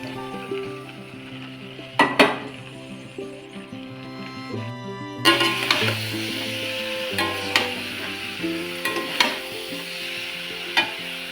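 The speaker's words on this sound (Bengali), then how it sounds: "এইবার দিয়ে দিব আগের থেকে ভেজে রাখা ফুলকপি, আলু আর মটরশুঁটি" Pre-fried cauliflower, potato and peas tip into a pan of well-cooked spice masala with ground poppy seed paste, giving a loud sizzle and repeated stirring scrapes and clanks over a steady tonal backdrop.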